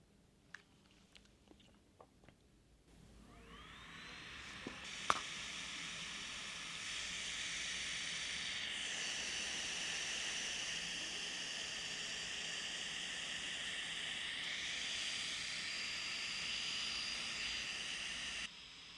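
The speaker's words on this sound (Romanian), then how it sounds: "când pornim camera, pornesc ventilatoarele și se aud destul de tare" Cooling fans of a Kandao 8K 360 camera spin up after a few quiet seconds with small clicks, then hold a loud, steady, airy whir close by until the end.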